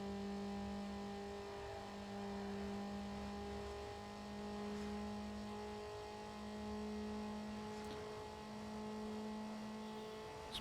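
Steady engine drone of a car in a racing video game, a sustained mid-pitched hum holding nearly constant pitch with faint subtle revving, alone and fairly quiet.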